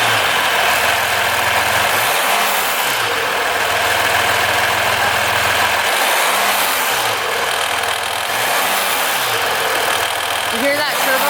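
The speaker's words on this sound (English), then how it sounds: "you guys hear that turbo already? It's kind of louder." A rebuilt, previously wrecked 2016 Dodge Ram 1500 EcoDiesel engine runs close by at a steady idle with a turbo whine, swelling briefly in a few soft revs over a continuous loud drone.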